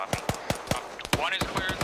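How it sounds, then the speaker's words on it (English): Rapid automatic machine gun fire from the military video game Arma 3 crackles in a fast, evenly spaced burst of sharp shots, moderately loud and heard alone. "you can hear the gunshots in the background"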